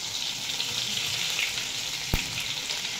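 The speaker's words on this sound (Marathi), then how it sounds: "तर आता लसूण आणि अद्रक छान तळले।" Ginger and garlic frying in hot oil with cumin and mustard seeds for a matar paneer curry, giving a steady, close, full sizzle with one sharp click near the end.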